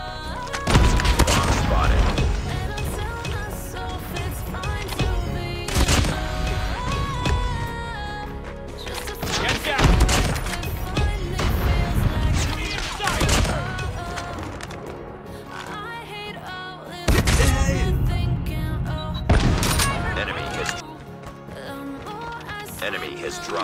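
Video game gunfire and bomb blasts in a war combat match, with sharp bursts and heavy booms recurring every few seconds over a dense, continuous backdrop of music and effects, loud throughout.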